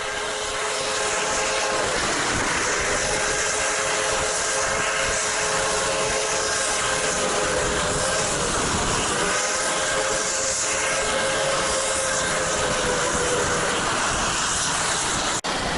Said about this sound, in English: We are now paralleling the Norfolk Southern Main Line as our train continues the wonderful tour